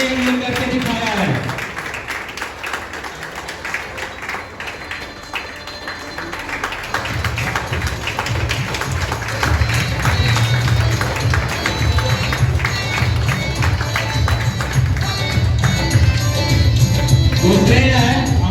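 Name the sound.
audience applause at a celebration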